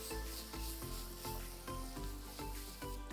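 Onions and green chillies sizzle and fry in melted butter with bay leaf in a pan, a steady close crackle with rhythmic pulses as the pan is tossed or stirred, no voices over it.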